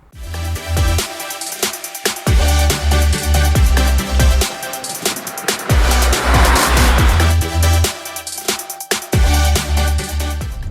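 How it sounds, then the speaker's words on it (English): A 2021 Hyundai i20 Turbo with a turbocharged petrol engine and DCT gearbox drives along, its engine note rising and dropping with gear changes and bursts of acceleration, heard loudly from close by without speech. "So I'm driving the i20 Turbo now."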